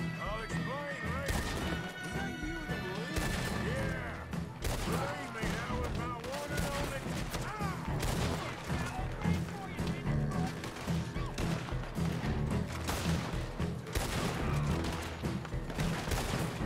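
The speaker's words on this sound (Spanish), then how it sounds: "ahora tiros" Gunfire in the video game Red Dead Redemption 2 crackles in repeated sharp shots throughout, over dense game music and effects, with no voices.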